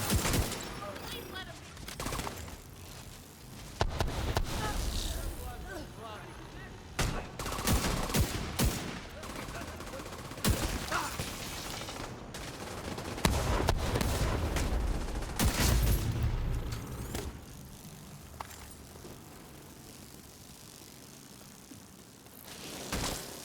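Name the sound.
rapid gunfire from video game weapon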